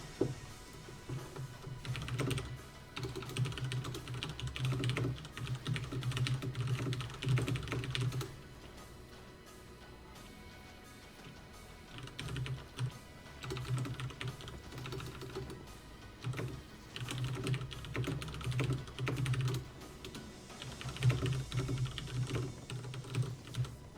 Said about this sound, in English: Suddenly when I'm typing